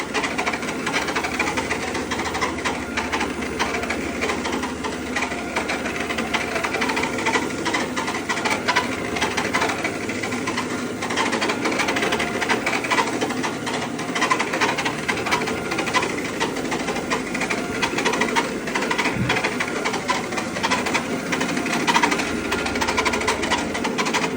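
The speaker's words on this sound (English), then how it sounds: "Really scrubbing this up really well." A floor scrubbing machine deep-cleans a barber shop floor, giving off a steady, continuous motorized whir and rumble that stays at an even level for the whole stretch, with no talking.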